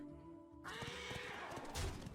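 A digital horse neighs from a Hearthstone card being played, a brief whinny over the game's loud synthetic music and effects, with no talking.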